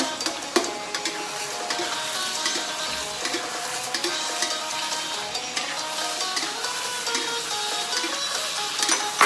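Sator beans stir-fried with shrimp paste and minced pork give off a steady, close sizzle in the pan, with light scraping and clinking from stirring throughout.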